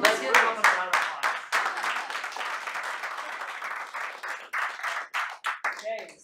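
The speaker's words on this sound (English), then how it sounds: "Let's give them a round of applause." A meetup audience applauds with dense, sustained clapping that starts loud, fills the room evenly, then thins into scattered individual claps toward the end.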